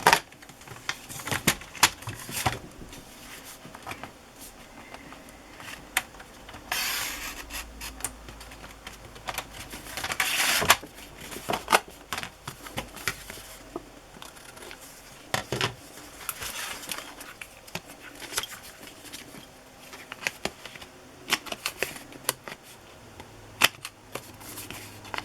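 Scissors snip through paper cards while making Christmas ephemera with watercolor paper, giving irregular crisp cuts and rustles at close range, with scattered louder clicks and handling noises over a quiet room.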